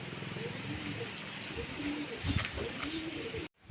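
Pigeons in a loft coo repeatedly at close range, their low rolling calls overlapping against a busy background of shuffling and handling noise, before the sound cuts off abruptly.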